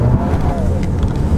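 A 2.0-liter Volkswagen Atlas accelerates hard around a corner, its engine giving a loud, steady rising roar and whine heard from inside the cabin, with the tire spinning.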